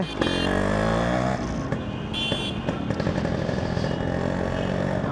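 A Yamaha RX100 two-stroke motorcycle engine revs and idles up close, loud and continuous with a buzzy, crackling note that rises sharply at the start and then settles into a steady rattling throb.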